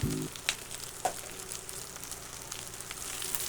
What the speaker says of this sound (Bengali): এখন আমি আর একটু নেড়ে চেড়ে ভেজে নিব